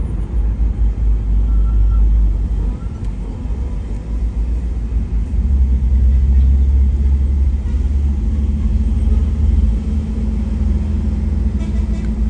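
A car travels behind a truck on the winding Camba road between Maros and Bone, a loud continuous engine and road rumble that holds steady throughout with no talk.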